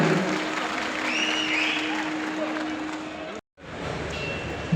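A crowd at a World Fisheries Day 2025 gathering of the Karnataka fisheries department claps in sustained, even applause that breaks off for a moment before resuming.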